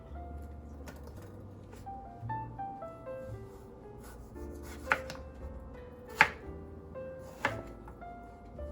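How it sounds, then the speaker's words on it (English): A knife slices through watermelon skin on a board while preparing a homemade Haidilao-style hotpot, a few sharp isolated chops and taps spaced across a quiet kitchen with faint background tones. "Cut into slices. It's gonna be the watermelon we're using."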